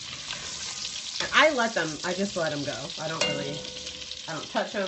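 Shallots frying in a pan over medium-high heat give a steady sizzle that runs under close, continuous talking throughout.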